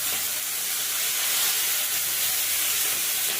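Food sizzles in hot oil while pakoras with banana and green chili are being fried, a steady, close bright hiss throughout with no speech.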